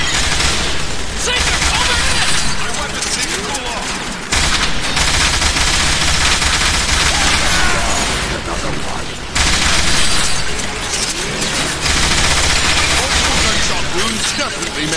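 Sustained automatic weapon fire in Transformers: War for Cybertron, loud continuous bursts with brief pauses, mixed with mechanical clanks and impacts, voices shouting over the din.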